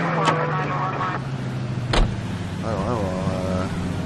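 A car's engine in the video game L.A. Noire hums low and steady throughout, with someone talking over it.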